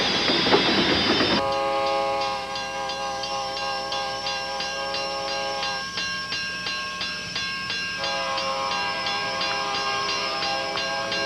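A train passes close by, its loud multi-tone horn blaring steadily for most of the stretch, with rail clatter and rumble beneath and brief gaps in the horn.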